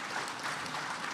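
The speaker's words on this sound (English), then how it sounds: "I think that deserves a real round of applause" Sustained applause from a conference audience at a security panel, a steady wash of clapping throughout without individual claps standing out, fairly faint and even.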